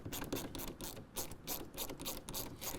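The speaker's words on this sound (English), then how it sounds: "We're going to use a 7mm socket to pull those 2 out." A ratchet with a 7mm socket backs out factory trim screws on a 2024 Ford F-150 during a fender flare install, giving rapid, close, rhythmic clicking in short repeated bursts with brief pauses.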